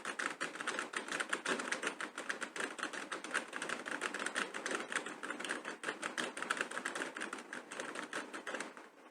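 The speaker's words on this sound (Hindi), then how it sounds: "कुछ भी टाइप करते जाएं।" Rapid, steady typing on a computer keyboard, with dense close clicking of keys running without a break for several seconds and no talk.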